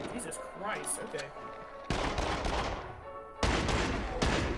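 Several heavy magnum gunshots in the VR shooter Until Dawn: Rush of Blood, loud sharp blasts with trailing decay, each standing alone against game ambience, with a voice heard faintly earlier.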